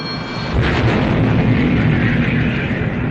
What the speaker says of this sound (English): Open fire as soon as you can, guns. We're opening fire now